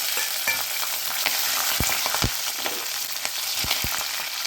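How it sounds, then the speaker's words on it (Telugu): Peanuts, green chillies and garlic frying in hot oil, a steady dense sizzle with occasional sharp crackles and pops, close and fairly loud with no talking. "పల్లీలు లైట్ బ్రౌన్ వచ్చేటప్పుడు పచ్చిమిర్చి, వెల్లుల్లి వేసుకుందాం."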